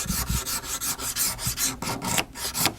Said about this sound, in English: I take my scraper, and I'm going to scoop some material out of the middle here to make that cup